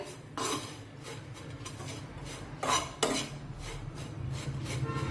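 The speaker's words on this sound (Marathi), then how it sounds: "आता सर्व मसाला व्यवस्थित मिक्स करून घेऊया" Spoon stirring and scraping spices in a metal bowl for a peanut masala paratha, a steady run of close clinks and scrapes with a few louder knocks against the bowl's side, no voices.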